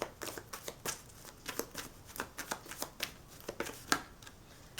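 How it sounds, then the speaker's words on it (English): Tarot cards are shuffled and drawn in a quiet room, a rapid series of soft riffling flicks and slaps close up, fairly faint, with no talking. "can I just get 2 more cards, Spirit, for my pile 3?"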